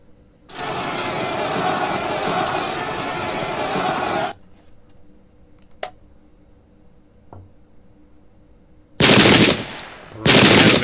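Musket volleys crackle in the battle video game Pike and Shot at the Battle of Prestonpans: a loud, rolling burst of dense gunfire lasting several seconds, a quiet gap with faint clicks, then two more heavy rattling volleys.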